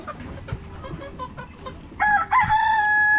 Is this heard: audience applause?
no